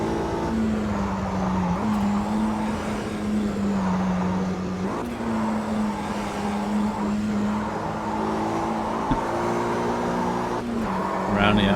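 A 1965 Mini Cooper S race car engine drones steadily at high revs in Automobilista 2 at Sebring, with brief gear-change dips and rivals nearby, loud and continuous with light talk over it.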